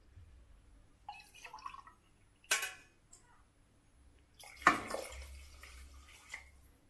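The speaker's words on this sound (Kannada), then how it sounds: "ಇವಾಗ ನೀರು ಹಾಕ್ತೀನಿ." Water poured from a glass onto rice in a pressure cooker for egg biryani, a few soft splashy pours with short pauses and faint drips, close by and quiet, no talking.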